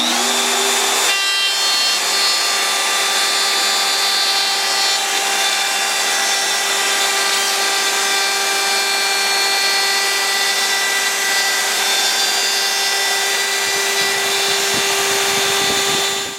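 A Festool power tool flush trimming the edge of a plywood slab door, a loud, steady high-pitched whine with a constant cutting rasp that starts abruptly, runs continuously for the whole stretch, and winds down at the end.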